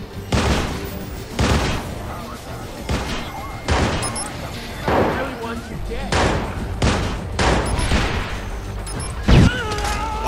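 Shotgun fire from an enemy in Watch Dogs, a run of heavy booming blasts repeating every second or so, loud and close, with busy game noise between shots.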